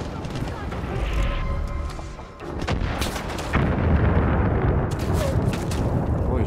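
Gunfire and heavy explosions in the Far Cry 5 Hours of Darkness DLC, a dense, continuous barrage of booms and shots that swells louder midway, with a voice talking over the battle.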